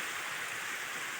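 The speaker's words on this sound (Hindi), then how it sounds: "बड़ा प्यारा वाटरफॉल, ये तकरीबन 40-45 फुट लम्मा है" A waterfall roughly 40 to 45 feet tall in Azad Kashmir roars steadily, a broad, constant rush of falling water heard up close with no voices.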